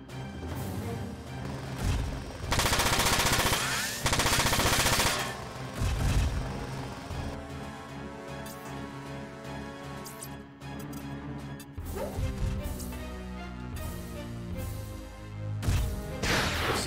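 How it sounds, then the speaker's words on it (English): Rocket barrage hitting a mech in the video game Front Mission 4, with loud bursts of explosive gunfire-like blasts and crashes layered over a dense, continuous game music score. "Zed is rocketing this guy."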